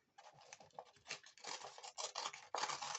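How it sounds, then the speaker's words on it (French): Paper for a junk journal being torn by hand in a long continuous rip, with crisp irregular crackling bursts that swell and fade over a few seconds, close and fairly quiet with no talking. "On va déchirer tout du long"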